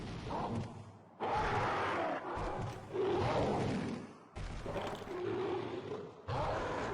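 A big purple raptor monster roars in a series of loud, drawn-out growling bursts, about four long blasts broken by short silences, close and filling the space with no talk.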